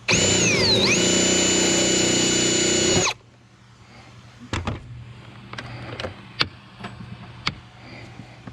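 A power drill whines loudly for about three seconds, its pitch dipping briefly, while driving a screw to hold a latch on a Ford F350 7.3 Powerstroke diesel. A few sharp, scattered clicks and taps follow in a quieter space.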